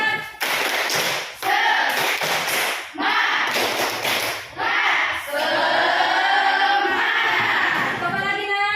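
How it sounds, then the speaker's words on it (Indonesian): Children in an Indonesian classroom perform the 'tepuk semangat' spirit clap, a loud patterned run of rhythmic hand claps in quick bursts, with short breaks and a chanted group rhythm among them. "Ayo, tepuk semangat."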